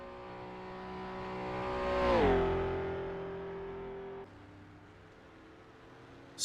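A Mercedes racing car in an Isle of Man time trial roars closer, its engine note sweeping sharply downward as it passes by, then fades to a lower, quieter drone.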